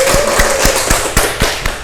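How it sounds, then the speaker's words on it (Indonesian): A classroom group claps together in a steady, evenly spaced rhythm of crisp hits, loud and close, lasting a couple of seconds. "Ya, beri tepuk tangan."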